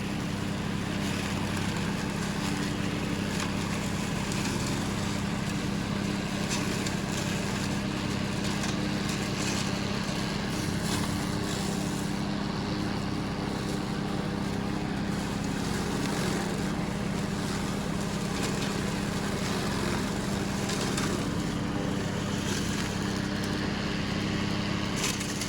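A homemade pond-bank mower attachment on a tractor runs without a break, a loud, steady engine drone with a constant low hum and a busy whir throughout.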